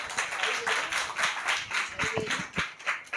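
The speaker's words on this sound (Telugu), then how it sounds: "ఇప్పుడు గట్టిగా చప్పట్లు కొట్టండి." A church congregation claps together in a rhythmic, fairly quick beat, each clap a sharp burst in a repeating pattern, moderately loud with faint voices mixed in.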